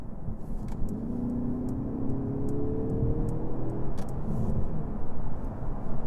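A plug-in hybrid car in sport mode, engine and electric motor together, pulls from inside the cabin, its hum rising in pitch as it accelerates, with faint ticking clicks above.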